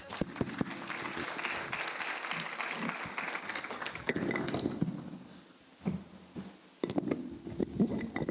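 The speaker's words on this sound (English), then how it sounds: "Another round of applause." Sustained applause from a conference audience at the closing session of an international conference on girls' education, dense and steady, thinning briefly near the end before swelling again, with a faint voice underneath.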